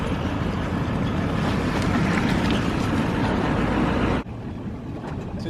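A bass fishing boat runs across bumpy water on a trophy lake, giving a dense, steady roar of hull slap, engine and wind noise that drops abruptly near the end.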